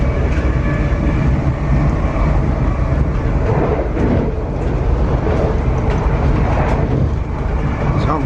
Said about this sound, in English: I'm right over the wheels, that's why the train's throwing me about a bit